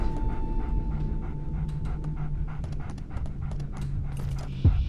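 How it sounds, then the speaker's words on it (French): Sound design for a dog in a Game of Thrones role-playing video game: close, rapid, rhythmic panting breaths that repeat steadily throughout, with a brief sharper sound at the very end. "on a particulièrement fait attention au sound design du chien"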